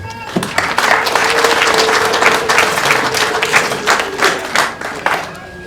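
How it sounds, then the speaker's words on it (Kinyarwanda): Dense applause from a wedding crowd carries on steadily, loud and close, with a sustained high ululating tone running through the clapping. "amashyi n'impundu"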